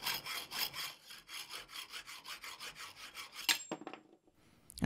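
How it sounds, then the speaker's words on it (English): Hacksaw cutting off a steel part turned on a homemade metal lathe, rasping in about fifteen quick, even back-and-forth strokes, close and loud, before a few scraping knocks and a short pause at the end. "I used a hacksaw to cut off the part."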